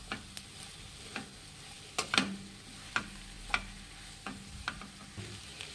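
Crushed potato masala for masala dosa is stirred in a pan with a spatula, giving a series of scraping knocks about a second apart over a faint steady sizzle. No one speaks.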